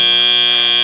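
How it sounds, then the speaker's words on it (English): A loud, steady electronic match-end buzzer at a robotics competition, harsh and sustained without a break for about a second. "And there goes that buzzer"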